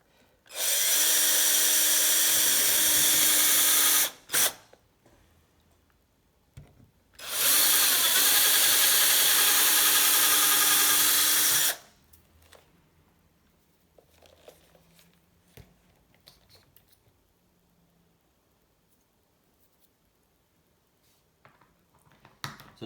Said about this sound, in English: So that's all the drilling concluded.